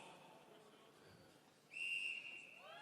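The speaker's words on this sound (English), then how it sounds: "Listen for the whistle to start us off." A single sharp, steady starting whistle blast sounds at a strongman event after a quiet stretch, loud and held for about half a second, then fading into murmuring background.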